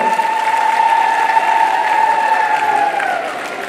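Crowd applauding loudly at a government pension scheme launch event in Keonjhar, a sustained, dense clapping roar with a steady tone running through it, easing slightly toward the end.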